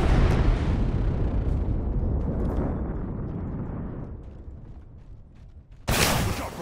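A large video-game airstrike blast: a loud, broadband explosion that rumbles and slowly decays over several seconds, followed by a sudden fresh burst of noise near the end.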